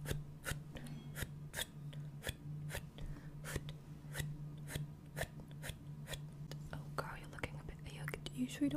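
Scissors snipping hair in ASMR: steady, evenly spaced crisp snips close to the ear, repeating about twice a second under a low hum, with faint whispering and soft rustling near the end.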